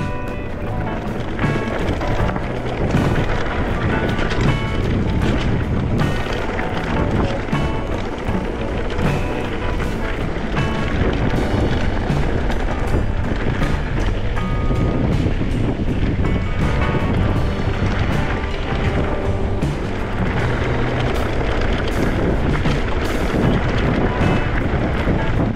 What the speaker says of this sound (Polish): Trochę wiatru w ten upał.